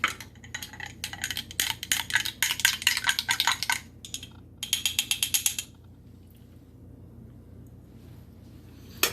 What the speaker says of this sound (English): with our bar spoon, stir this up